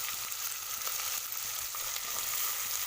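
Dried fish and onion pieces fry in hot oil in a pan for a home-style dried fish curry. A soft, even sizzle crackles quietly throughout, with faint scattered pops and no voices.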